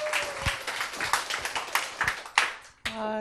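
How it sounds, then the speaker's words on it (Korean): Audience members clap to welcome a family onto a stage. The applause is scattered and uneven, in bursts of close hand claps, and a brief tonal sound cuts in near the end. "박수로 맞이해 주세요."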